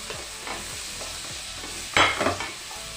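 Garlic and onion frying in melted butter, a soft steady sizzle with a few scraping stirs, then a louder burst of sizzling near the end as the onion hits the pan.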